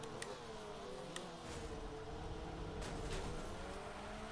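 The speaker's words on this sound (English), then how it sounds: "God damn, these cars are loud." Race car engines roar loudly in Forza 7, a sustained high-revving drone with sweeping pitch and a few sharp clicks or shift ticks, continuous and close with no talk.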